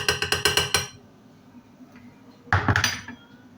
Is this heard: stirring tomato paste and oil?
yes